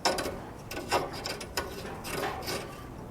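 A screw is driven into the sight of a Northwest trade gun with soft, close scraping and rubbing strokes that come in short, uneven bursts.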